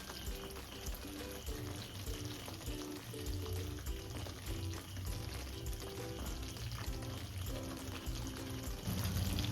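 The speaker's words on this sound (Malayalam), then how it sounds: "സ്വല്പം ഫ്രഷ് ക്രീം ആഡ് ചെയ്ത് കൊടുക്കാം." Fresh cream poured into sizzling paneer butter masala in a pan gives a continuous close frying crackle and bubbling, with a soft pour and a brief stir over the sizzle.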